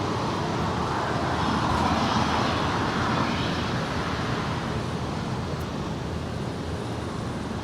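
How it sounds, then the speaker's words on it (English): An Atlas Air Boeing 747-400 freighter lands, its engines producing a loud, continuous broadband roar that holds steady throughout, close by with no voices. "That is Atlas Air Flight 8765 coming in from Anchorage. It's a 747-400 freighter."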